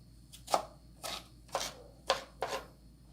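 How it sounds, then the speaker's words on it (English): A knife chops vegetables into small pieces on a cutting board in a kitchen, making five crisp, evenly spaced strikes close by with quiet pauses between them. "Just chopping this up into very small pieces."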